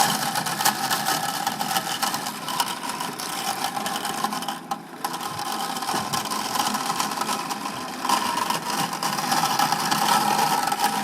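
A hookii Neomow X robotic lawn mower with 3D LiDAR runs across a lawn, giving off a steady mid-pitched motor whir and blade hum that stays close and constant throughout.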